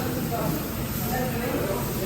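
A steady, hissing spray runs without pause for a couple of seconds, broad and noisy like a pressure washer up close, washing a 4x4 Mahindra tractor.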